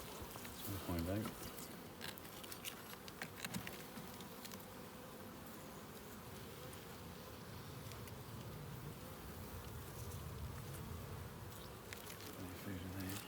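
Honey bees buzz around an open hive with seven frames of brood, a soft continuous hum with individual bees droning past nearby, while people talk quietly.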